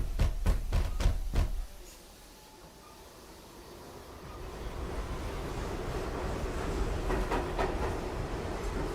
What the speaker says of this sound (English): On the train we go.